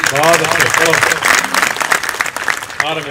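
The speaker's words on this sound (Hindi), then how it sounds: "एक बार तालियां बजा करके माहौल बना दीजिएगा।" Audience applause rolls on steadily for a few seconds at a Hindi comic poetry gathering, with a voice speaking over the clapping throughout.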